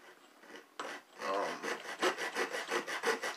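Aluminum is cut by hand with a saw instead of an angle grinder, giving rhythmic rasping strokes close to the listener after a few tentative scrapes, then a steady back-and-forth pulse of about two strokes per second.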